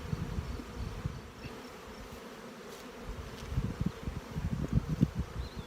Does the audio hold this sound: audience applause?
no